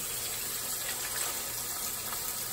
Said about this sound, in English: now I'm gonna go ahead and pour in those 2 cans of sliced tomatoes